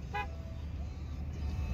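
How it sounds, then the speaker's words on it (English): A car horn gives one short toot early on during a deer hunt, over a low rumbling background of engine or wind noise. "Don't honk the horn."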